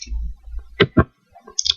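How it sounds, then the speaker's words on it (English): Computer mouse and keyboard clicks in a quiet room: two distinct sharp clicks close together, followed by a few fainter ticks and a last light click. "you click it and click the delete button on your keyboard"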